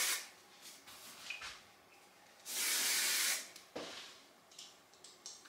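Hairspray is sprayed onto hair in a home curling routine: one sustained hiss of about a second, with soft handling rustles and taps before and after.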